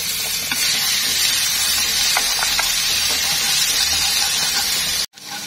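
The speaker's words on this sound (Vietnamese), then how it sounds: "mình tiếp tục mình phi một ít tỏi ớt" Garlic and chili frying in cooking oil in a pan, giving a loud, continuous close sizzle with occasional stirring scrapes, cutting off abruptly near the end.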